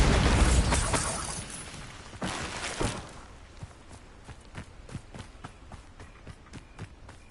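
Bombarda blasting spell in Hogwarts Legacy, a heavy explosive burst with a shattering crash that decays into scattered debris clatter and rhythmic footsteps for several seconds.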